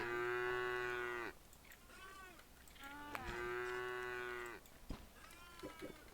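Loud, close, drawn-out moos from a cow in the video game Craftopia: one long call, a pause with softer grunts, a second long moo, then brief low snorts at the end. No speech.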